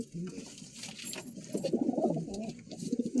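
Low, throaty cooing of a high flyer pigeon repeats in soft rolling phrases, close by, with faint rustling and chirps in the background.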